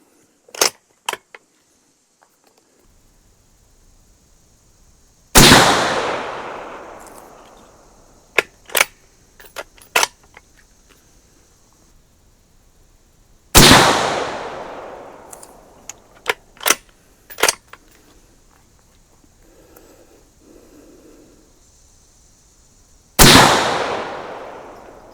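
A 5.56 bolt-action AR15 rifle with a precision barrel fires hand-loaded rounds at a target from a cold barrel, three sharp loud shots spaced several seconds apart, each followed by a decaying echo and smaller clicks of bolt handling.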